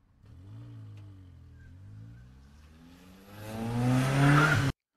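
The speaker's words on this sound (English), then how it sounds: "Fast car drive away." A sound-effect car pulls away fast, its engine note climbing and swelling as it revs up to a loud peak before cutting off sharply.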